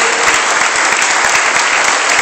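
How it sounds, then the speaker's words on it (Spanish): Loud, dense audience applause fills the whole stretch at a closing ceremony in a Paraguayan cinema, steady clapping from a crowd with no pauses. "Un fuerte aplauso."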